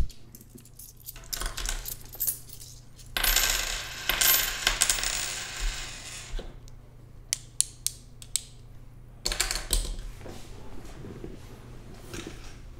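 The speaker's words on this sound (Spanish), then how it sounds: "mover la silla o hacer un poquito de ruido con unos USBs y monedas que tengo por aquí" Coins and USB sticks rattle and clink in a hand, and a chair creaks as it shifts, in a quiet room picked up by a RODE Procaster microphone. Bursts of jingling alternate with short ticks and squeaks.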